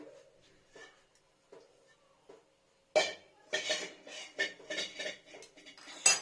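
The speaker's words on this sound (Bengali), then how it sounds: "এটা কড়াইটাকে সরিয়ে দিই আগে গরম কড়াইটা" A hot kadai used for steaming vegetable momos is shifted aside on the stove: a few faint taps, then a burst of metallic clanks and scrapes against the cooktop, close and intermittent.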